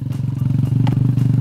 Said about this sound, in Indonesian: Sing penting bisa bonceng Mbak Diva naik motor kayak ngene lur